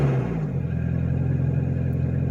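A Nissan Versa engine runs at a steady, low, throaty drone that stays close and fairly loud throughout, with a brief rise in pitch at the start and no talk over it.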